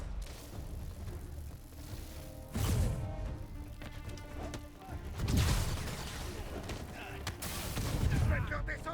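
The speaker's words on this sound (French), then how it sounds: "il se prend des balles dans le dos là" Gunfire in the Marvel's Spider-Man video game strikes enemies, giving bursts of crashing shots and impacts every few seconds over steady game music. Someone talks over the action.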